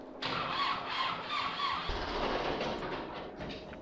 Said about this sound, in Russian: Как заводить-то трактор?